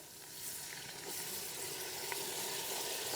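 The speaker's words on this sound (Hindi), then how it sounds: "अब थोड़ा सा मैं इसमें पानी शामिल करूंगी ताकि इससे ज़्यादा हमारा प्याज ना जले।" Water poured into a pan of frying onions for chicken haleem sets off a steady, hissing sizzle that swells after the first second and holds loud and close.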